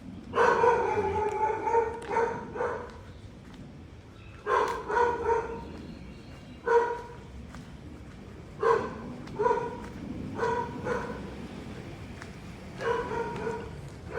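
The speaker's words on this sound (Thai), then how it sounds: "หมาเห่าเยอะนะครับ" Dogs bark repeatedly at a Buddhist temple in Chiang Mai, Thailand, in irregular clusters of sharp barks from a short distance, spread across the outdoor grounds with pauses between the bursts.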